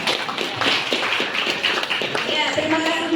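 Classroom applause for a student during a national teacher training session, a dense patter of many hands clapping steadily at close range, with voices murmuring underneath.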